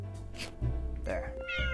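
A Minecraft cat meows a couple of times over game music, the calls fairly close and clear with no talk.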